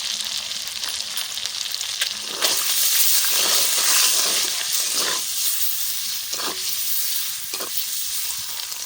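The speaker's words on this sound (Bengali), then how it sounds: "ওইদিকে ডিম ডিমগুলো দিদি ভাজছে" Eggs fry in a pan for a butter egg masala curry, a bright continuous sizzle that swells and eases, with brief stirring or scraping bursts cutting through the hiss, no voices.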